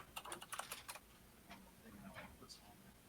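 Rapid keystrokes clatter on a computer keyboard in short bursts, quiet and close, with a few scattered taps following and faint speech in the background.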